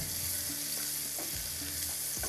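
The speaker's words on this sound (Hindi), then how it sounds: "ये देखें हल्का सा इसको फ्राई करते हैं।" Ginger frying lightly in a pan gives a steady, close sizzle that stays even throughout, with a few soft stirring scrapes breaking through.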